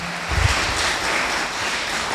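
A church congregation applauds during a sermon, a broad, hissing wash of many hands clapping that fills the room evenly and steadily, with a brief low thump early on and no voices heard.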